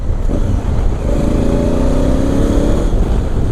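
A 2017 Honda Africa Twin motorcycle engine under a rider working the throttle on and off: a loud, close, continuous engine drone with a rising rev in the middle, heavy rumble and wind noise throughout.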